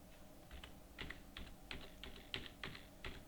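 Keys tapped on a computer keyboard while entering text into Tally Prime accounting software, a steady run of light, quick clicks in short bursts against a quiet room background with no talking.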